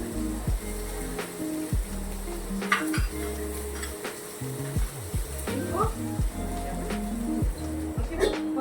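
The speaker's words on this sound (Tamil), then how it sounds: "பச்சை மிளகாவும் கொடுத்துரு, அதுவும் சேர்த்து வதக்கிட்டு அதுக்கப்புறமா மூடி வச்சுரு." Vegetables and green chillies sauté in a pan, a soft sizzle under repeated clinks and scrapes of a spoon stirring against metal, while people talk throughout.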